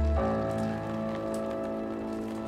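Steady rain pattering on a surface, with a brief low thump at the start and a constant soft hiss throughout.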